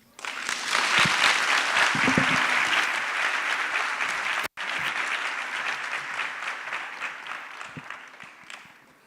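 An audience at an elections statement launch at Nelson Mandela University claps loudly and steadily, with a brief break in the middle before the sustained applause continues and slowly thins out.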